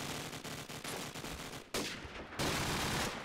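Rapid gunfire in Call of Duty 4 ProMod competitive match play, dense bursts of automatic shots crackling loud and close in quick succession, with a sharp louder burst near the end.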